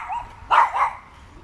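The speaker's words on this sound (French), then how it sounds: "Nous sommes dans un parc public, il y a des chiens qui se chamaillent, tout va bien." Dogs squabbling in a public park, giving a short burst of two close, loud barks or yelps over quiet outdoor background.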